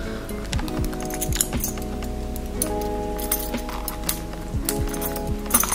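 Keys jangle and clink inside a Louis Vuitton key pouch, close and clear, in repeated bright metallic bursts that come and go over a few seconds.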